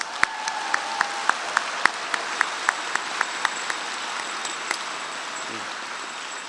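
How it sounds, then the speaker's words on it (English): An audience at a university graduation ceremony applauds graduating master's students, a steady wash of clapping from many hands with a few sharp taps standing out near the front. "Let's have a round of applause for all of our graduating master's students."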